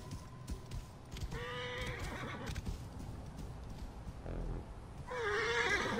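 A horse in Assassin's Creed Origins gives two whinnies, one early and a louder, closer one near the end, over steady hoof clip-clops and faint game ambience.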